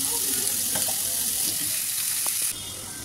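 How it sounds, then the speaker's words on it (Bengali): Malabar spinach and vegetables sizzle steadily in a hot pan, with a few soft scrapes of stirring in the middle. "এবার খুব ভালো করে নাড়াচাড়া করে সবজিগুলোকে ভাজা ভাজা করব।"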